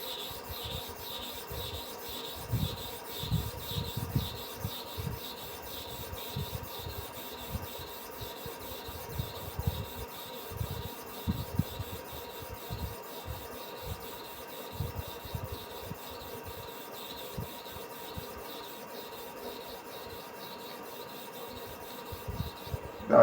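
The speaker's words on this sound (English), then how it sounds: "I'm sharpening here now. I'm going to and fro 50 times. Light pressure, slow movement." A barber razor blade is drawn slowly to and fro across a sharpening stone with light pressure, making steady rhythmic scraping strokes that are close and quiet, with no voices.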